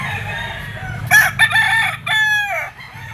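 A local banded yellow-legged rooster crows once at an outdoor pet and fowl market, a loud, close call with a rising start and a long drawn-out tail, over steady low crowd murmur.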